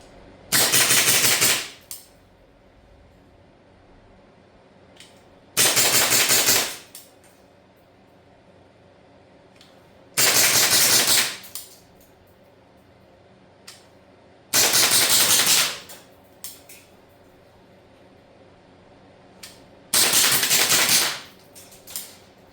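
Airsoft gun emptying a magazine in a cold garage, five sharp bursts of rapid fire spaced roughly every five seconds, loud and close, with quiet gaps between strings.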